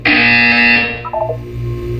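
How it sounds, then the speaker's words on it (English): A loud, steady electronic buzzer tone from the Portal 2 video game drones for about a second, then gives way to a few short stepped beeps over a low hum. "You will hear a buzzer."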